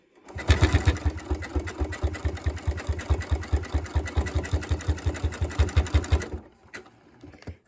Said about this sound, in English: So you'll sew some more.